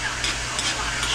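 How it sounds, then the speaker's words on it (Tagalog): Steady hiss and crackle of food being sautéed in a hot pan, continuous and close throughout. "Nagigisa na tayo."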